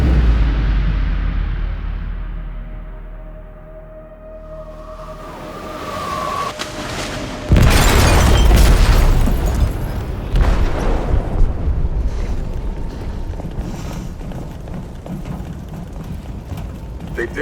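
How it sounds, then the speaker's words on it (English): An explosion tears through a ship's hold in Detroit: Become Human, a sudden loud booming blast after a rising rumble and faint tone, followed by a long roaring, crackling aftermath. "They detonated an explosive in the hold."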